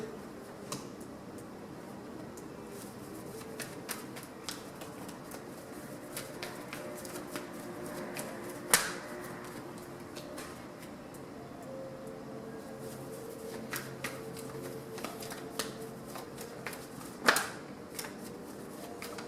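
Tarot cards shuffled for an eight-card spread, with quiet irregular riffles and taps at close range in a hushed room and a couple of sharper card snaps.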